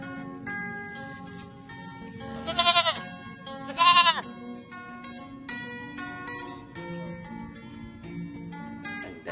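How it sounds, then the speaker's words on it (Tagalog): A newborn goat kid bleats twice in close succession, loud and near, over a steady background of farmyard ambience. "Bagong panganak na kambing ko."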